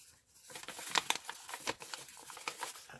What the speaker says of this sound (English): let's kind of crumple that up a bit